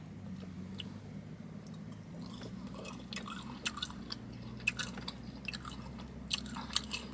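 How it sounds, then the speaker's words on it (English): Candied bacon coated in brown sugar and black pepper being chewed close to the mic, soft crunchy bites and wet mouth sounds repeating over a steady low hum, with sharper crunches toward the end. "Let's try this candy bacon. I'm trying it without the sandwich first to see if the bacon any good."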